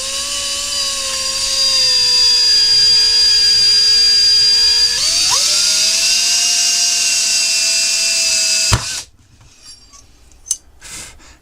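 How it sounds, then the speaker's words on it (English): A loud, high whine of a spinning drill that shifts pitch partway through as the bit slips, then cuts off with a sharp clack followed by quieter handling noises. "That was the drill slipping."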